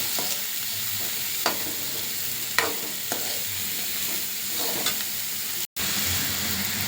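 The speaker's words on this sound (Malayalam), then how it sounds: "ആ എണ്ണയിൽ നല്ലോണം ഒന്ന് വഴറ്റിയെടുക്കുക" Bitter gourd stir-fried in hot oil with popped mustard seeds gives a steady close sizzle, broken by the periodic scrape and clatter of a spoon stirring through the pan and one brief drop in sound near the end.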